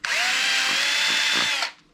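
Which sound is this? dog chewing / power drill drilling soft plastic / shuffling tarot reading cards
power drill drilling soft plastic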